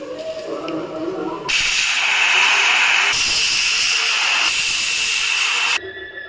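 Loud, steady hiss of steam rushing out of a pressure cooker for several seconds, then cutting off abruptly.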